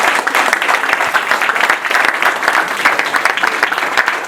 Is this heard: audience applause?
yes